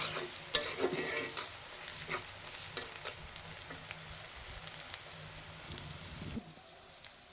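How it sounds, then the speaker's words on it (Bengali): Spice paste fries in a pan for dried fish bhuna, giving a steady close sizzle with stirring scrapes and taps, fading out near the end. "এখন পেস্টটা লাল হওয়া পর্যন্ত ভেজে নেব।"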